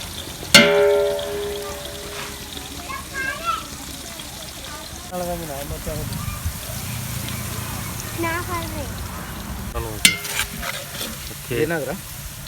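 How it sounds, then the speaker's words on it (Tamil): About 900 grams of onions frying in a pan for biryani, a steady sizzle with stirring scrapes and clinks throughout, sharp clatters near the start and again toward the end. "ஆனியன் நல்லா பொன்னிறமாக ஆகிற வரைக்கும் நல்லா வெயிட் பண்ணுறோம்"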